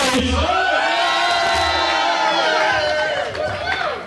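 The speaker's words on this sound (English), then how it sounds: "Those of you that are here to see Andy Rhodes, let me hear you make some noise." A wrestling crowd at a live event roars with cheers, whoops and shouts for wrestler Andy Rhodes, a dense sustained wall of voices filling the hall for about four seconds.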